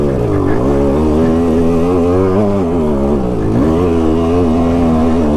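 A KTM 200 XC dirt bike crawls uphill in first gear, its engine droning close and steady with small rises and dips in pitch throughout.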